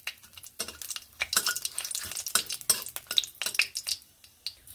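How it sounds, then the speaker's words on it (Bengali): Dry red chili, bay leaf and five-spice seeds are stirred in a hot pan for a few seconds, giving a steady run of close, scraping spoon-on-pan strokes with light crackling and no voices. "একটি শুকনো লঙ্কা আর দিয়ে নিচ্ছি তেজপাতা। এখানে দিয়ে নিচ্ছি 5 ফোড়ন। ফোড়ন এইভাবে কয়েক সেকেন্ড নেড়ে নিচ্ছি।"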